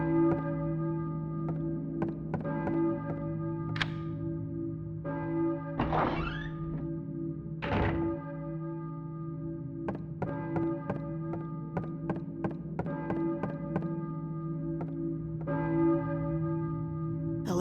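A bell tolls repeatedly in the video game Silent Hill (1999), with a few louder strikes ringing out over a sustained droning tone and scattered faint taps, and no speech.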